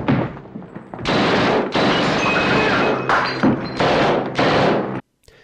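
Gunshots in a close-range action film scene, a soldier firing from the hip: several long loud bursts of dense gunfire and impacts over a few seconds, cutting abruptly to near silence at the end.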